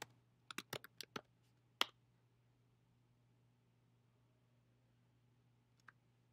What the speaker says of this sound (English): and I'll type in oatmeal